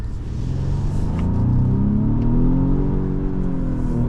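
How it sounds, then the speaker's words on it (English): Volvo S60 T8 Recharge AWD hybrid's boosted 2-liter engine pulling hard under acceleration, a steady loud low rumble with rising tonal whine heard from inside the cabin, no talk. "Once that 2-liter goes on to boost, this thing flies."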